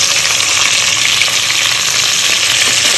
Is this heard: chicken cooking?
yes